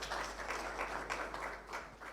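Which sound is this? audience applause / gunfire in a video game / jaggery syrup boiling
audience applause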